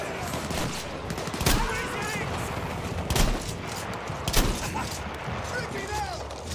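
Gunfire in the World War I shooter Battlefield 1: three or four sharp, loud shotgun blasts at uneven intervals over a dense bed of distant battlefield shooting and noise.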